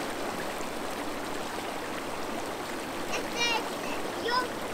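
A child splashes while bathing in a lake, with light water sloshing over a steady flowing-water wash; a few high squeals or vocal chirps come near the end.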